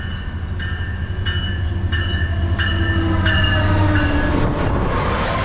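An Amtrak Surfliner passenger train rolling along with a loud, steady rumble, broken by repeated short tonal squeals from the wheels and rails.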